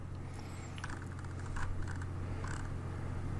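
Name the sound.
computer mouse click to refresh page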